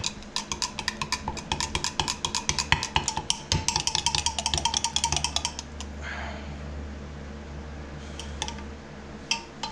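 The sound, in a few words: stirring black colorant into liquid plastic for Senko worms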